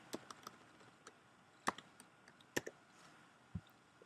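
Keys tapped on a computer keyboard while writing JavaScript code, a sparse run of separate clicks with a few louder strokes, close and quiet, with no voice.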